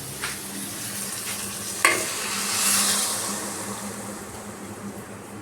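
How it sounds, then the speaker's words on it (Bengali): Mustard paste being added to a pan for okra curry, with a steady soft sizzle and stirring scrapes throughout and one sharp clink near the middle. "মাস্টার্ড পেস্টটা তৈরি করে রেখেছিলাম সেটা আমি দিয়ে দিচ্ছি"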